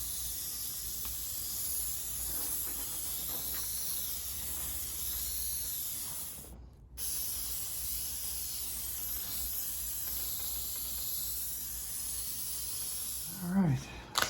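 A long, steady hiss from an aerosol spray can, spraying adhesive onto torn door panel trim of a 2012 Honda Odyssey, runs almost continuously, broken by one brief pause, with a faint rustle at the end.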